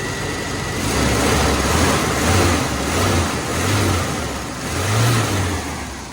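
A just-repaired car engine revving repeatedly after a fuel circulation problem, loud and close, with rising and falling surges over a steady rumbling idle.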